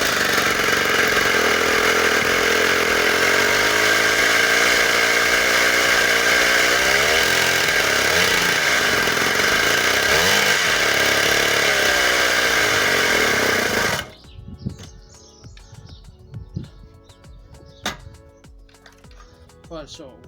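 49cc Orion mini dirt bike engine running with a new carburetor and fuel issues, a loud buzzing two-stroke drone with wavering revs that cuts off abruptly, then quiet clicks and handling noises.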